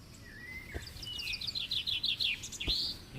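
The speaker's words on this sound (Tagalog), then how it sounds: "Anak ng ibon." High, thin chirps from small birds, a quick run of repeated peeps clustered together, close and clear, with a couple of soft knocks.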